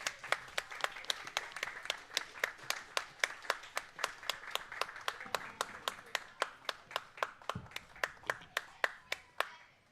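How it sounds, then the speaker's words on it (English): Lone person clapping steadily at a curling rink as teams leave the ice at a junior bonspiel, evenly spaced sharp claps at a quick regular rhythm, quiet and somewhat distant against faint arena background. "Applause for the teams from Sheet B coming off the ice."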